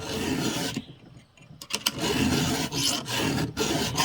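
A hand file rasping against a chainsaw cutter tooth on a Stihl saw, close and loud, in repeated gritty strokes with brief pauses between passes.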